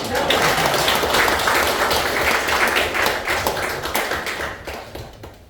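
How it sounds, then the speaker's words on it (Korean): An audience at a graduation ceremony for horse-culture interpreters in Jeju breaks into dense, sustained applause that fills the room, then gradually thins and fades toward the end. "이럴 때 박수를"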